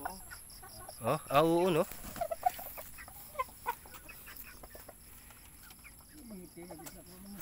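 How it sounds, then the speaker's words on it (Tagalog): Bakulod chickens in a coop let out one loud clucking call, followed by scattered quieter clucks, with a short spoken exclamation nearby. "Bakulod manok to, bakulod."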